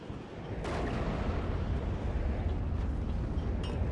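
Continuous rumbling explosions and artillery fire from the WARNO wargame, a dense low roar that swells after the first half second and holds steady, with occasional sharper blasts cutting through.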